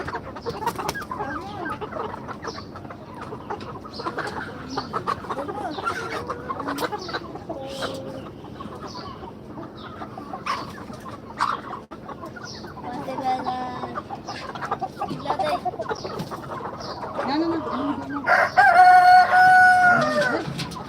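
Tiger-breed chickens cluck steadily nearby on a poultry farm, and a rooster crows loudly near the end, with faint voices in the background.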